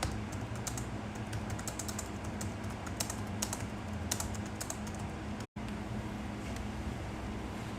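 Rapid, steady typing on a computer keyboard fills the clip, close and continuous with a constant low hum of room or road noise underneath and a brief dropout near the end.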